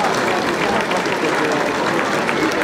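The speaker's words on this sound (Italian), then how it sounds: "farei ancora un applauso fortissimo" Loud, sustained audience applause at an evening community event, La Notte della Luce, with many hands clapping densely and evenly, a crowd murmur blended underneath.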